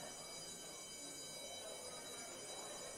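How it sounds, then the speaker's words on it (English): A continuous electronic alarm or bell tone rings in the video game ObsCure, sounding like a school bell or fire alarm, a steady dense buzzing drone that holds unchanged for the full few seconds without pause. "What is that, the school bell or is it the fire alarm?"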